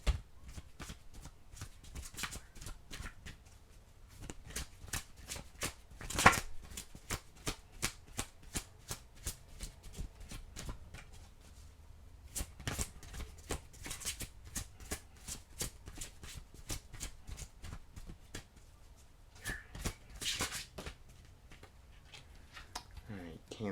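Oracle cards being shuffled by hand, close and soft, with repeated riffling and flicking bursts through most of the stretch and a few sharper snaps; no voice heard.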